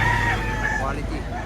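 A rooster crows at a rooster market in Lipa, Batangas, one loud, drawn-out call close by, with voices talking underneath.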